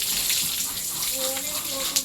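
Water running from a hose pipe during washing outdoors, a continuous rushing gush with faint background tones for two seconds.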